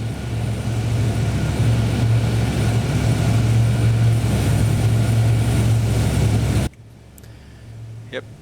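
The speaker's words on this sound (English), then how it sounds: "beautiful airplane. I like flying this guy. It's a big old truck" Four-engine C-130 military transport airplane with turboprop engines running, a loud steady roar with a strong low drone that cuts off abruptly near the end, leaving quieter background noise.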